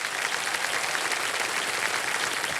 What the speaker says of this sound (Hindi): तालियां बज जाएंगी।